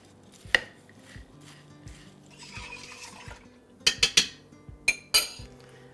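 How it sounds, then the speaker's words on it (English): A utensil stirs a mixture of oil and sweetener in a kitchen, with soft scraping and scattered sharp metallic clinks against the bowl, clustered toward the end. "I just needed to stir that really quickly."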